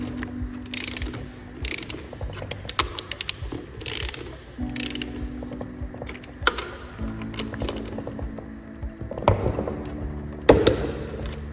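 Repeated ratcheting clicks from a torque wrench tightening bolts during a Bornemann SLH-5G double mechanical seal change, in short bursts with pauses, fairly close, with metallic clinks between.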